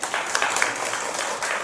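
Scattered applause from a small church congregation during a Sunday worship service, a brief, moderately soft patter of clapping hands with no speech over it.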